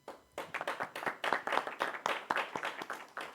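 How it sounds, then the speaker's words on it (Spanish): A small audience at a research panel claps in a sparse, uneven burst of distinct individual handclaps, fairly quiet and close, lasting a few seconds with no talk over it. "otro aplauso por favor"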